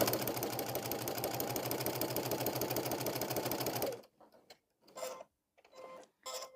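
A Baby Lock Soprano sewing machine fitted with a walking foot stitches at a fast, even mechanical rhythm for about four seconds, then stops, followed by a few short clicks and clacks of handling, close and clear.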